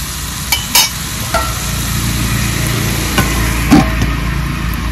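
Pui greens frying in a pan after water is added, then simmering under a lid: a steady close sizzle and bubbling hiss with a few clinks of a utensil against the pan, no talking.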